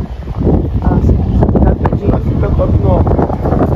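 Strong wind buffets the microphone with loud, rumbling gusts while a mini kite is flown outdoors, steady roaring throughout, with faint voices mixed in.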